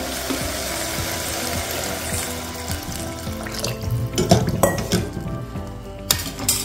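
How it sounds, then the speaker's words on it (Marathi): Water is poured into a metal pot of steamed vegetables while cooking paneer pulao, a steady running splash with occasional clinks of the pot and utensil, close and moderately loud. "त्यातच आपण आता हे पाणी टाकणार आहे"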